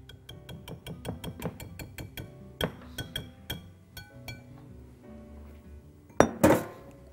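A metal whisk clinks against a bowl while mixing orange and raisin cake batter: quick, even taps that slow into scattered clinks, ending in a loud clatter close by.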